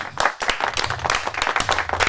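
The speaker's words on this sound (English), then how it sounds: "Why am I clapping for myself?" Dense clapping at the start of a live podcast taping, a quick run of sharp claps close by, with voices faint in the background.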